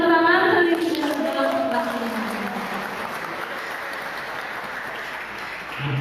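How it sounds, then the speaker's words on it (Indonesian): Seminar audience applause during a student orientation event, a sustained wash of clapping following a brief voice at the start, steady and fairly loud. "Sekali lagi boleh tepuk tangan."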